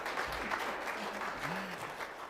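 Audience applause in a church service, a steady, moderately loud patter of many hands clapping together, continuing evenly with faint background murmur.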